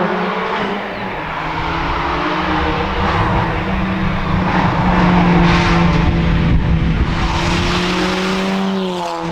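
A Ford Fiesta ST with a Miltech non-resonated race exhaust and sports cap drones loudly and raspily at high revs, its pitch holding then rising slightly, like a car driven hard nearby.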